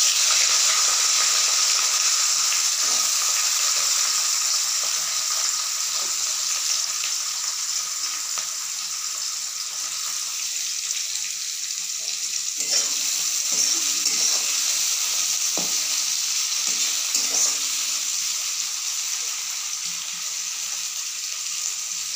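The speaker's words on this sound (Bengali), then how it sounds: "এবারে আমি পেঁয়াজ দেবো।" Onions frying in a pan while cooking a fish chochhori, a steady bright sizzle throughout with occasional clicks and stirring sounds.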